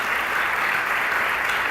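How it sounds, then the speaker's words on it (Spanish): A church congregation applauding during a service, a dense, steady burst of clapping from many people, loud and even throughout the short stretch, with no voices. "denle un aplauso al Señor para recibir la palabra en esta hora"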